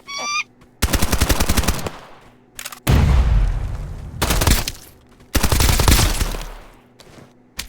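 Enemy gunfire in the video game Escape from Duckov comes as loud, rapid automatic bursts, several separate volleys of fast cracks broken by short pauses, with heavy booming impacts mixed in.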